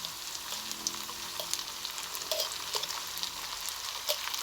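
Crab fat (taba ng talangka) sizzles steadily as it fries in a pan, a soft continuous crackle with occasional small pops.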